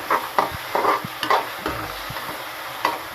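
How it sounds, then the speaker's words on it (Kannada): Food for chitranna, a simple lemon-turmeric rice dish, is roasted in a pan with a soft sizzle and several close scraping strokes of a stirring spoon, no voices present. "ರೋಸ್ಟ್ ಮಾಡ್ತಾ ಇದ್ದಾರೆ."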